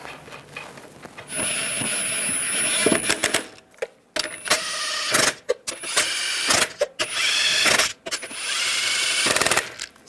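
Lug nuts run down on a 2011-2018 Ram 1500 front wheel with a power tool: loud bursts of rapid rattling impact hammering, several separate runs with short pauses between them, close up and with no voices.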